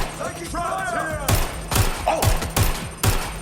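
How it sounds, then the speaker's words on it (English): Gunfire in the Watch Dogs: Legion video game, with five sharp shots spaced roughly half a second apart, each a loud broadband crack with low thump, following a stretch of game ambience and faint electronic tones. "Shots fired!"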